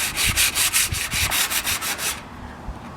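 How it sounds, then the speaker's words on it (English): Hand sanding milk paint off a wooden dresser drawer gives rapid rhythmic back-and-forth rasping strokes, close and loud for about two seconds, then stops into near quiet. "if I start to sand this without anything on it, so all that's on it right now is the milk paint"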